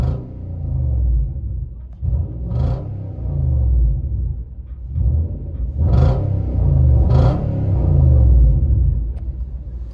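A 2011 Nissan Titan with a 5.6L V8 and true dual side-exit Flowmaster Super 10 exhaust, heard from inside the cab: a steady low rumble with several louder revs swelling and falling, no talking.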